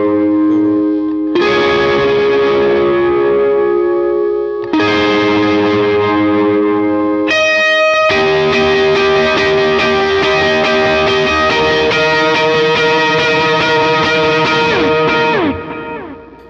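Electric guitar run through a Helix or POD Go effects unit plays a full chord progression with distortion, chorus and echo, sustained ringing chords changing every few seconds, loud and alone with no talking.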